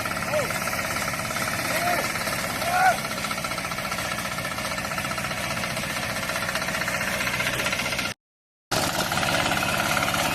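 A ride-on lawn mower cuts and collects grass on a sports field, its engine a steady, close, vibrating drone that runs unbroken apart from one brief dropout.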